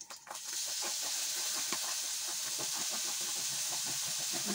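Minced pork marinated in soy sauce and pepper fries in a pan with a steady, even hiss, starting with a brief clatter and then a constant sizzle, no voices.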